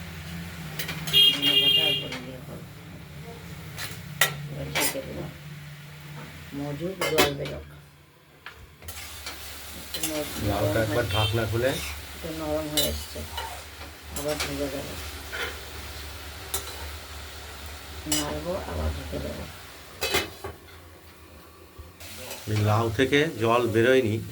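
Bottle gourd curry with lentil dumplings, coriander leaves and torn green chillies being stirred in an open wok: repeated scraping and clattering strokes over a continuous sizzle, pausing briefly midway, with some talk in the background.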